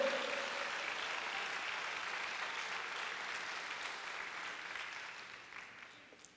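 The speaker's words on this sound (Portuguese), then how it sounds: "Vamos aplaudir ao Senhor." A church congregation applauds steadily during a Wednesday evening worship service, a dense wash of clapping that holds for the whole stretch and slowly fades toward the end.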